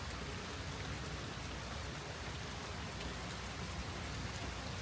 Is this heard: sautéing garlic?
no